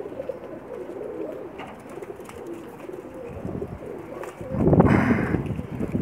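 Pakistani Sharmeelay pigeons coo softly in a loft, low murmuring calls repeating throughout, with a louder burst of cooing and flutter near the end.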